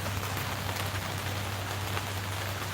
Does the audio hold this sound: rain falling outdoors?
yes